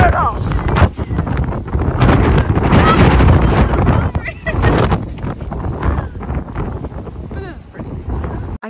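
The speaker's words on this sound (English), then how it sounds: "the wind is brutal." Strong, brutal wind buffets the microphone on a hiking trail in a park along the Appalachian Trail, a loud continuous roar with gusty swells that never lets up.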